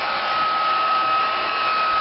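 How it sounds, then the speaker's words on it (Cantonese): A hair dryer blows warm air while bathing a pet, a steady, loud, close whirring hiss with a constant whine and no talking. "一攞個暖風機。"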